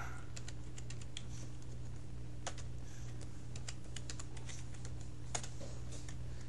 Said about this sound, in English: it won't show up on the screen, but it's typing.